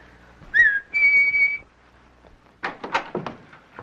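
Two short whistled notes, the first rising and the second held steady, sound near and clear, followed by a few muffled knocks and shuffles.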